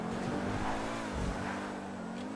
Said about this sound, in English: That's a mostly quiet car,